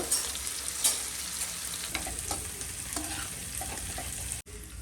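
Eggs with chili powder fry in a pan for a fried egg biryani, a continuous close sizzle with a few brief stirring clinks and scrapes, and no talk.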